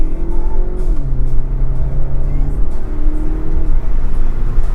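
A 2025 BMW 123i xDrive engine drones from inside the cabin at low speed as the automatic gearbox shifts up early, its pitch dropping at each change, loud and steady, with a voice speaking faintly over it.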